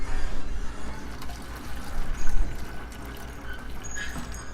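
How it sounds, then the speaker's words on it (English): Water pours steadily into a water can, topping it up during smoker maintenance on a long pulled pork cook; a continuous, moderately loud splashing stream with no talking. "I'm going to top up that water can"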